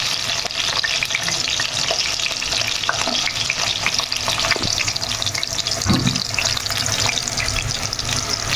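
Potato and carrot pieces fry in a pan of hot oil for a mixed winter vegetable dish, a loud, dense, continuous sizzle with occasional stirring knocks.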